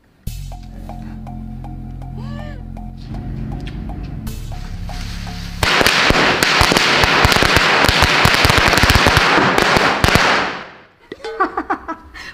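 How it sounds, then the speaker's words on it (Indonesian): A dense, loud barrage of firecrackers bursting in rapid succession for several seconds, following a quieter stretch with a tonal hum, then fading to scattered pops. "kata papa aku ini mercun paling bahaya."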